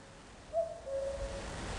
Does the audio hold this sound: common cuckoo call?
yes